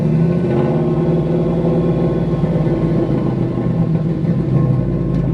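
A Regal car's engine runs with its muffler exhaust, a loud, steady low rumble that holds evenly throughout with no pauses or talk.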